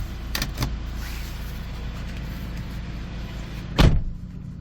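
Folding side mirrors on a 2019 Hyundai Porter 2 Super Cab one-ton manual truck: brief clicks, a steady motor whir and a firm clunk at the end, over a constant idling hum.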